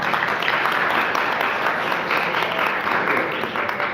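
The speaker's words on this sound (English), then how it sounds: "Let's give him a round of applause." Audience applause at a community candidates' forum, sustained clapping from a sizable crowd, loud and continuous from start to finish.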